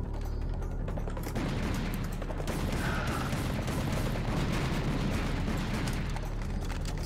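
Gunfire from the video game Serious Sam: a continuous, dense barrage of rapid shots and impacts at steady loudness, with no gaps and no talking.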